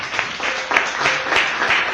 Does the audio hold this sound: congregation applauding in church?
yes